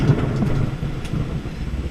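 Deep, rolling thunder from an electric storm with close lightning, heard from a boat, rumbles low and steady, with a sharper crack partway through and a constant noisy wash over it.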